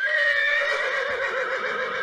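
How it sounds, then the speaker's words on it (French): Recorded horse whinny of a negative, distressed kind, one sustained harmonic neigh lasting about two seconds, loud and alone. "c'est un hennissement typiquement négatif."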